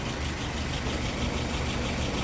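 Engine idling steadily at about 685 rpm, a continuous low rumble with even, unbroken loudness throughout and no voices over it.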